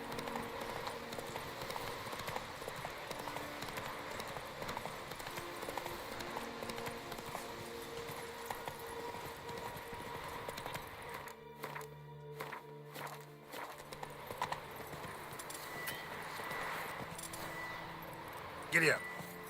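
Horse hooves clip-clop at a steady gallop through The Witcher 3 while exploring Toussaint, a continuous rhythmic pounding under game ambience, briefly dropping out midway, with a voice speaking at times.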